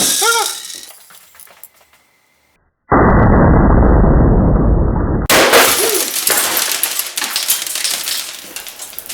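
Homemade Christmas booby trap built around a CO2 cartridge loaded with BBs fires with a sudden loud burst and a steady hissing rush of released gas lasting a few seconds, followed by rattling and clattering.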